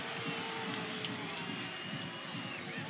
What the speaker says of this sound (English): There is a buzz in this stadium here at Bonnie Field.